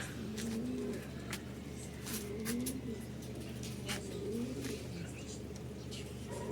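Several racing pigeons coo in repeated low, warbling phrases at a steady rhythm, close by, with faint background clatter and distant noise.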